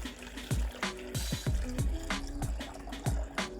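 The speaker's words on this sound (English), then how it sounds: "I'm gonna put about 7 cups of water." Filtered water poured onto coconut for homemade vegan milk, a steady close liquid splash and trickle with repeated bubbling drips throughout, no talking.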